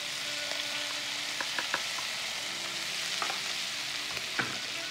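Hot oil sizzles in a pan ready for lobster pasta, a steady close hiss with a few small pops and scrapes scattered through it.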